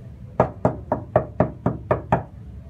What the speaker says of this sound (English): I like to knock on his door,